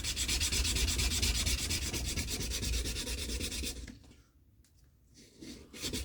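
Sandpaper of 400 grit rubs by hand along a drop point hunter knife in fast, even back-and-forth strokes that are close and steady, then the strokes stop and a few quieter handling scrapes follow.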